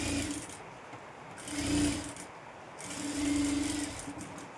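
A sewing machine joins a designer princess-cut blouse piece to its lining cloth in a continuous close run of rapid stitching, its motor hum swelling twice as the speed picks up.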